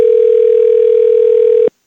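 A steady, loud telephone dial tone holds one unbroken pitch for under two seconds as the host places a call to a listener, then cuts off abruptly into silence.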